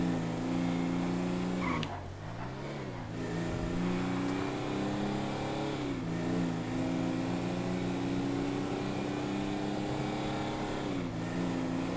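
Car driving in Grand Theft Auto V, a continuous engine drone that rises and falls as it revs and shifts, steady and fairly loud, with no talk.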